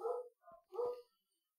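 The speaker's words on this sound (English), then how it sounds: "Let's see what the dogs are barking." Two or three short dog barks or yips in quick succession, fairly close and clear, separated by brief gaps and then silence.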